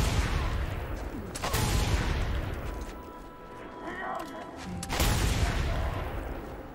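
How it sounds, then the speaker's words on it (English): Gunfire in the Mad Max video game, with two loud bursts of shots near the start and near the end over a constant rumbling game background. "Just jump out and start shooting them."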